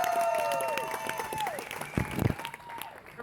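A small crowd applauds after a flaming whip trick, a dense patter of claps sitting under whistling and a few voices, with a brief louder burst of clapping near the middle.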